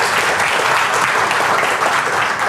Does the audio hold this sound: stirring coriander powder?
no